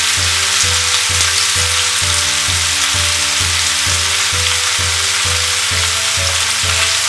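Pumpkin leaves sauté and get stirred in a hot pan after salting, making a continuous bright sizzle that runs under steady rhythmic background music.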